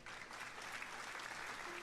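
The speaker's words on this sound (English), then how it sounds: "smiles broadly as the audience claps" Steady, dense applause from a theatre audience fills the scene as a storyteller draws back the curtains on his booth in the Cinderella Phenomenon game, a continuous bright patter of many clapping hands without pause.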